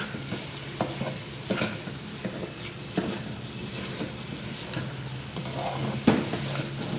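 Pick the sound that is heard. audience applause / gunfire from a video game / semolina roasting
semolina roasting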